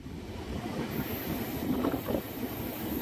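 Tirupati Intercity Express rolls over the Palar river bridge near Vellore, a steady close rumble of wheels and carriage noise with a faint high squeal throughout.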